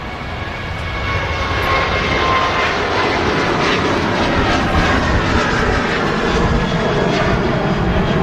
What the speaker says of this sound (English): awesome sound on that 7-3 departure